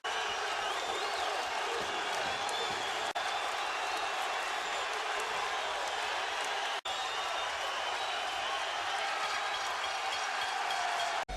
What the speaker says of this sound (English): a deafening roar from the crowd at the Videotron Center in Quebec